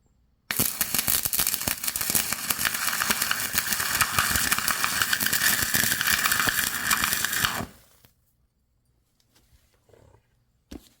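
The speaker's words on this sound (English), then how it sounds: "It's a pretty clean weld." A cheap $89 stick welder at setting 80 lays down a bead, giving a loud, steady crackling buzz for about seven seconds before cutting off into near silence.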